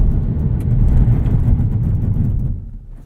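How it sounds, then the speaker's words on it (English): A 2021 Cadillac CT4 V-Series AWD on Pirelli winter tires runs a braking test: loud low rumble of the car and road from inside the cabin, fading slightly as it slows near the end. "Let's do a braking test here too."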